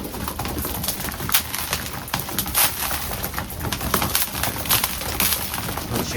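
Racing pigeons in an aviary make scattered cooing, shuffling and wing flutters against a busy, noisy background, with soft scrapes and rustles repeating throughout.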